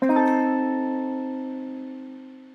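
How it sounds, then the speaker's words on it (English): A single guitar chord of three notes is struck once and rings out, slowly decaying over a couple of seconds. "it starts off with this very cool chord, which is a 3-note chord"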